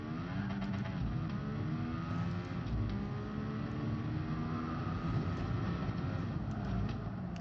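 In Gran Turismo Sport, a car engine drones in a steady, loud, continuous tone with layered harmonics that shift gently, sustained at a constant level throughout without pauses or speech.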